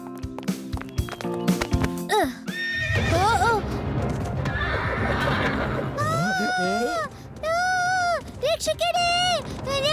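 A horse neighs loudly several times in shrill, wavering whinnies, with hoof clops and scraping noises early on, close by.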